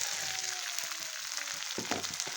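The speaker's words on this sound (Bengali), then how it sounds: "সরিষাটা আমার সামান্য ভেজে নিচ্ছি।" Mustard seeds and sun-dried rice fry in a pan for chalta pickle, giving a steady close sizzle with scattered small pops and a few stirring scrapes throughout.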